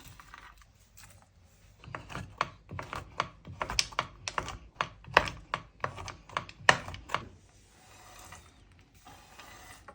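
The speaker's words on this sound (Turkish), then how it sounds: "Büyükçe doğruyorum." Knife chopping walnuts into large pieces on a cutting board for healthy cookies with 80% dark chocolate, giving a run of sharp, close, irregular taps that cluster in the middle and trail off, with no talking.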